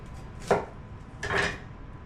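A knife strikes an onion on a cutting board, producing two brief, close chopping taps about a second apart over quiet outdoor background.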